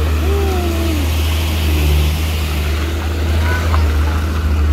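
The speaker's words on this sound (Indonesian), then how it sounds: "ini dia truk Puso" Low, sustained diesel drone of a Fuso dump truck loaded with split stone passing on an uphill road, heavy and continuous, with someone speaking over the engine noise.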